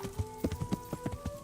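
Quick horse hoofbeats in the video game Kingdom Come: Deliverance clip-clop in an even rhythm, close and clear over a low steady hum, with no talking.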